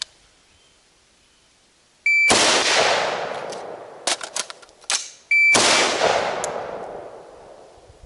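Two loud rifle shots fired at a target, each a sharp close blast with a long ringing decay, separated by metallic clicks and clatter of an emergency reload, preceded by a short electronic beep.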